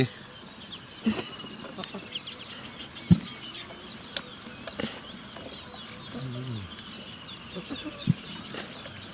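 Recorded bird calls play as a lure during early-morning bird trapping, giving short fowl-like clucking calls at irregular intervals over a steady background hiss.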